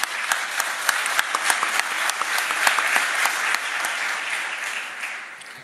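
An audience at a CAF executive committee election meeting of the African football confederation applauds steadily, many hands clapping in a dense, sustained burst that fades slightly toward the end, with no talk over it.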